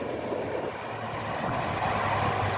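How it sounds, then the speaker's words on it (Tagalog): Strong sea waves surge and roll against a beach in Quezon Province while gusty wind rumbles across the microphone in a steady, loud wash of noise. "So nakita nyo naman yung alon oh, napakalakas ang alon."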